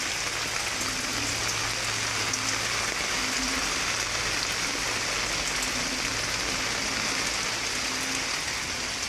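Steady rain falling in the Bicol province countryside and being caught in a collection drum, a dense even hiss of drops on surfaces with faint low drumming patter, continuous throughout and with no voices.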